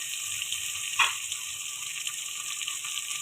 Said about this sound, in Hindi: इस टाइम पे हम इसमें पानी डाल देंगे ताकि आलू अच्छी तरह से